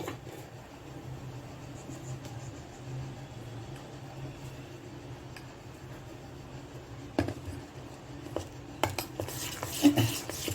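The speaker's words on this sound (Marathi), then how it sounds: "हे एका सर्क्युलर मोशन मध्ये आपण व्यवस्थित फेटून घेणार आहोत।" Mixed dal bhaji batter whisked in a circular motion in a metal vessel, soft steady scraping and clinking that grows louder and busier toward the end.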